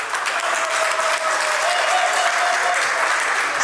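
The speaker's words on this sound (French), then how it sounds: "les hommes acclamez s'il vous plaît" Men in a cabaret audience at a live comedy show applaud and cheer, a dense, steady wash of clapping with a faint sustained shout running through it, loud and close throughout.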